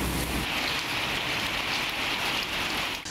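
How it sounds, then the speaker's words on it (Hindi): Steady, dense rain pours down during a thunderstorm in Khyber Pakhtunkhwa, a continuous loud hiss with no breaks and no voices throughout. "गरज चमक के साथ वक्फे वक्फे से बारिशें हो रही हैं।"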